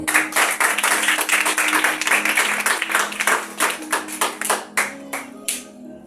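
A church congregation claps steadily for the king in worship, dense rhythmic applause filling the room with sharp, close hand claps that thin out toward the end.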